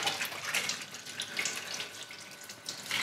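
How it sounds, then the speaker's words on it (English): Cold tap water runs steadily as a foiled fishing lure gets a brief rinse, an even close splashing hiss with no talk over it. "a little bit of a rinse in cold water"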